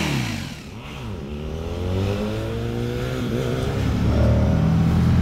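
A Midual motorcycle, a French-made bike, revs hard during a wheelie, the engine rising and falling in pitch through gear changes before climbing to a sustained loud roar, close and alone.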